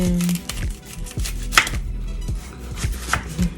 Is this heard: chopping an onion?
yes